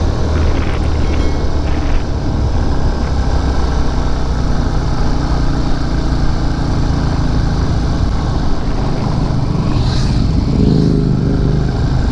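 Motorcycles climbing a steep uphill road in Malico, San Nicolas, Pangasinan, their engines a steady continuous drone with strong low rumble mixed with broad outdoor noise and no speech.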